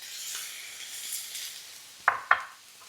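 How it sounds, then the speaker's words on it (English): Ground cumin, paprika, garlic powder and onion powder toast in a pan with a soft, steady sizzle, broken by two sharp scrape-and-clack strokes of stirring near the end; no voices. "you want to toast off your spices"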